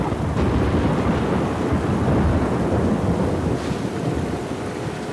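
Thunderstorm in the video game The Last of Us Part 2: a deep, rolling rumble of thunder over a continuous roar of wind and rain, loud and sustained throughout, with no talking.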